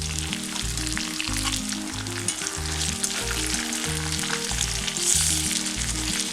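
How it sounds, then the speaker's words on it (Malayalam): Payyoli chicken shallow-fries in a pan over low flame, a continuous close sizzle and crackle of oil with bursts of spitting, alone without talk. "ഇത് ഷാലോ ഫ്രൈ ആട്ടോ ചെയ്യുന്നത്."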